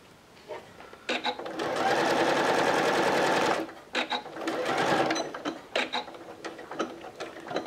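Sewing machine stitching the pocket edge of an artist's case, running in short bursts then a sustained steady whir for about two seconds, followed by more stop-start stitching with a few clicks.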